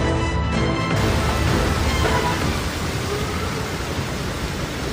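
Heavy rain pours down over Metro Manila in a dense, steady roar of broadband noise, loud and continuous throughout with no voices.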